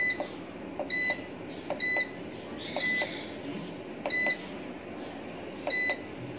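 A 3.5 kW power inverter sounds its alarm, a series of short, sharp electronic double beeps repeating at a steady interval over a quiet background hum.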